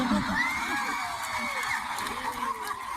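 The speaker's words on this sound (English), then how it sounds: "Raucous applause. Everyone loved it." Concert crowd erupting in raucous cheering, whoops and yells over sustained applause, a continuous roar with shrill shouts rising above it.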